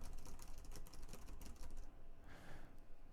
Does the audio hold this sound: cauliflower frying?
no